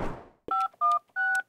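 Three distinct DTMF keypad tones from a telephone being dialed, each a steady dual-pitch beep about a fifth of a second long with short gaps, following a fading rumble at the start.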